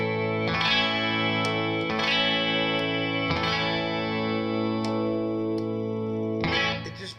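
Rickenbacker 12-string electric guitar with a vintage tone mod, strummed as sustained, shimmering chords with rich jangly overtones. Each new strum rings out loud and clear before the final chord fades.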